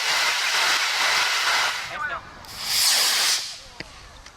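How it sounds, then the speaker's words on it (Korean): A model rocket launches with a loud, hissing roar that surges, drops briefly, then flares again before fading, heard close with no talking. "제법 그럴듯한 모양의 로켓이 폭음과 함께 긴 꼬리를 허공에 남긴다"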